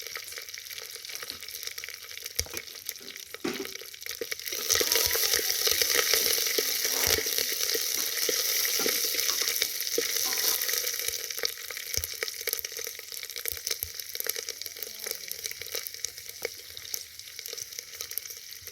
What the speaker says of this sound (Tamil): கருவேப்பிலை போட்டு 2 பச்சை மிளகாய் போட்டு வதக்கிக்கிறேன்.